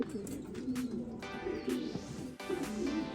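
Racing pigeons from a flock race coo repeatedly nearby, soft throaty rolling calls that overlap in an uneven rhythm over a faint background hum.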